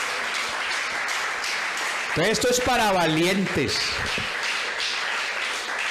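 A church congregation claps steadily in a dense, continuous wash of applause while a voice speaks briefly over it in the middle.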